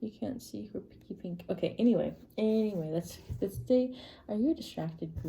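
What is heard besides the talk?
None of the usual background noises is heard.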